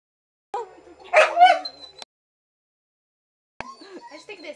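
A small dog gives a few high yips and barks in short bursts, separated by silence, close by.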